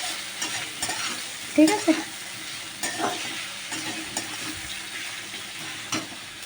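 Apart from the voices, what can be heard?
onions being stirred and fried in a pan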